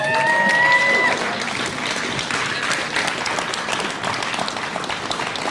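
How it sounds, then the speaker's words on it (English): A conference audience at the Bitcoin Rodeo 2024 gives dense, sustained applause that fills the room with steady clapping, and a brief whistle cuts through near the start. "Keep that applause going."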